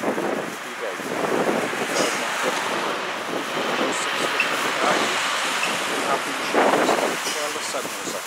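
Chilly outdoor wind rushes steadily across the microphone, a constant broadband roar with gusty swells, heard on its own with no talking.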